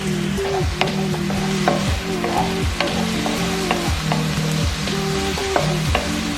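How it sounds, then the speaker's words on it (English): Red pepper and garlic cook in olive oil with butter, a loud close sizzle under repeated scraping and tapping of a utensil in the pan, backed by a steady tonal hum; nobody speaks. "a little bit of olive oil, and then the red pepper and garlic. And you just cook those until they're soft."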